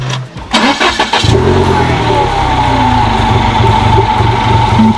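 A turbocharged car engine cranks and catches after about a second, then settles into a steady, loud, close idle that runs alone to the end.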